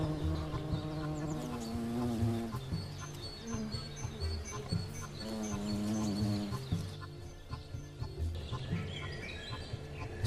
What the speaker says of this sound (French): Le raisin arrive à maturité, attire les derniers frelons de la colonie.